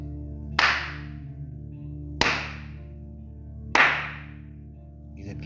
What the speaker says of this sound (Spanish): Vamos a batir 3 veces nuestras palmas por encima de nuestras cabezas